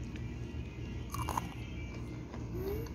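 Crisp, close crunching as homemade onion sticks are bitten and chewed, a dense run of crackly bites and mastication over about three seconds with no talking.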